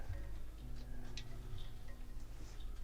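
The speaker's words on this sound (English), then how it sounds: "Clocks ticking everywhere." Faint, steady ticking of many clocks fills a quiet room in Blackpool under a low hum of background noise, with soft regular ticks and no voices.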